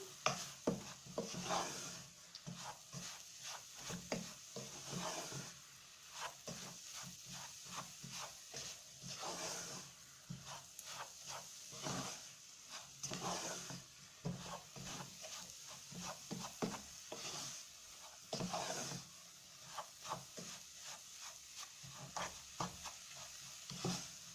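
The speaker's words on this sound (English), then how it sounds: "You must continuously stir so that the tasty wheat doesn't burn." A spoon stirs semolina (tasty wheat) in a pot on a stovetop, making a steady, quiet scraping with a faint sizzle. The strokes repeat continuously in an irregular rhythm, with no voices.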